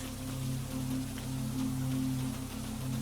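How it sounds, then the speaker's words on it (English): Steady rain falling on forest leaves, a dense, even patter of many drops close by, continuous with a faint low hum underneath and no voices. "the rain reaching every part of the forest in its own slow time"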